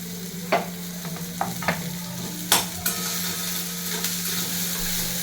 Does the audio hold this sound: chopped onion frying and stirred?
yes